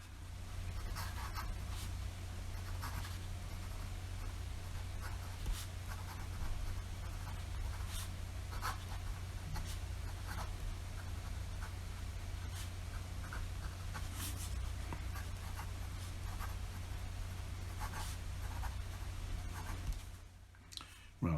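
Nib of a PenBBS 308 fountain pen scratching across paper in a steady, close, quiet stream of small strokes and taps, over a low constant hum, stopping near the end.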